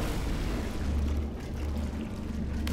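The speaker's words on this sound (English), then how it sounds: "the water is rinsing it off and not allowing me to continue on the test" Water pouring steadily in a Portal 2 test chamber, a continuous rushing splash at even strength with no talking.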